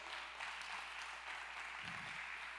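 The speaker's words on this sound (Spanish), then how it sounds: "Dale un fuerte aplauso a Dios." Congregation at a Spanish-language church service applauds God, producing a steady, even wash of distant, fairly faint clapping with no distinct individual claps.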